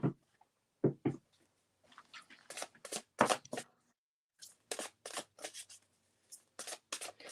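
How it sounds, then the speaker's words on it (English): A star-themed card deck shuffled in a string of crisp, intermittent riffles and snaps, close and fairly quiet, separated by brief silences. "Now, Allison, does it help if I mute myself while you're shuffling?"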